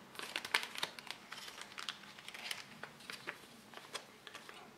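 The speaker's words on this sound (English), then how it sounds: "we have an accessories bag" A US MRE accessories bag from Menu 14 crinkles and rustles in close, quiet bursts of dry plastic crackle, with small handling clicks and no voices.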